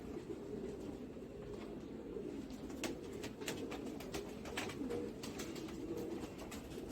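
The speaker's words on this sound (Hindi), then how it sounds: "ये टोंके कबूतर है बेसिकली" Tonk pigeons coo softly in a low, steady murmur, with scattered sharp clicks and rustles on top of a constant background hum.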